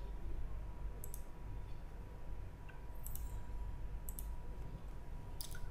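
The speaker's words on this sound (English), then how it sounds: "So now I'm just clicking." Mouse clicks on a computer while building a digital full adder circuit in PSpice software: sharp, isolated clicks at irregular intervals, about five or six, over a steady low hum and faint room noise.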